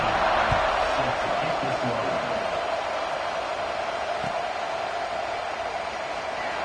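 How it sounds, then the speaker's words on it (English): A Mississippi State football stadium crowd after a score, a dense, steady roar that fills the whole stretch at an even level, with faint thumps and shouts scattered through it. "this crowd is buzzing after that last score"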